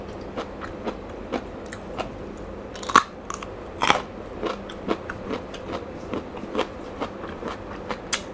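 Crisp bites and steady chewing of crunchy pickled eggplant eaten with boiled pork and fermented shrimp paste, close to the mouth, a regular series of short crunches about every half second, with a few louder bites.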